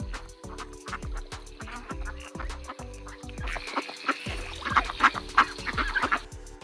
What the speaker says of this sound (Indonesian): Jadi ini ada suara bebek.